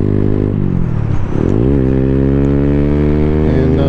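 A 2024 Freedom Fighter 200 EFI motorcycle carrying a 256 lb rider accelerates hard on a rural country road. Its engine note climbs steadily, dips briefly at a shift, then climbs again, loud and close.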